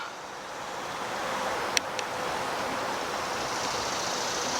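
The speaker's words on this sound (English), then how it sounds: "And down here's the Swatara Creek." Swatara Creek, murky and running high after heavy overnight rain, gives a steady broadband rush of flowing water heard from nearby, with two faint sharp clicks partway through and no talking.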